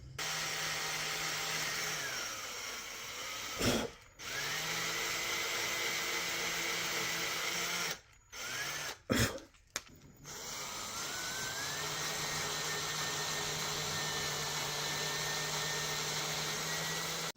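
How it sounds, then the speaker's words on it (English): A power drill bores tuner holes through a guitar headstock built from free wood. The steady motor whine runs loud and continuous, broken by a few short pauses as the bit stops and restarts. "Let's drill out the holes for the tuners and mount them."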